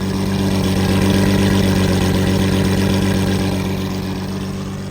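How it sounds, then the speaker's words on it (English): A Lamborghini Murcielago idles roughly with an uneven, pulsing low rumble and faint ticking, loud and close, the engine note steady then easing slightly toward the end. "There's like a weird click thing that's going on, and then the car shakes when it's idling."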